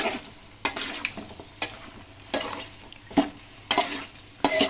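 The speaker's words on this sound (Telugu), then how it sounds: "నూనెలో మొత్తం కాకరకాయల్ని మొత్తం కలుపుతుంది." Bitter gourd is stirred and fried in oil in a pan, with a steady sizzle cut by repeated scraping strokes of a spoon at a brisk, uneven rhythm, close and clear.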